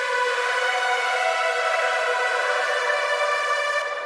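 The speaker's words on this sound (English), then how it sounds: "This is a little dull, and then you add the distortion." Distorted sawtooth synth lead, harsh and bright with dense upper harmonics, sustaining as one loud continuous tone for about four seconds.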